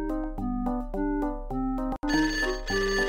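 Electronic phone ringtone from the video game Eagle Eye Mysteries in London, a clear melodic tone pattern repeating in steady bursts, fairly quiet with no talking.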